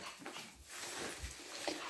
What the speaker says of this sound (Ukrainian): ще тут якийсь песик їздить